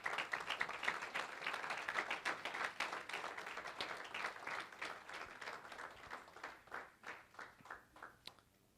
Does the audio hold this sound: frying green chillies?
no